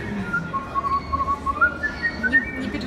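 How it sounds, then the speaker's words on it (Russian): A whistling oyster from a Guinness beer advertisement pipes a clear wavering melody, steady and fairly close, over a faint murmur of background room noise. "Не переживайте, ничего такого, просто свистящая устрица."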